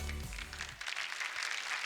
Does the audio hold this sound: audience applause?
yes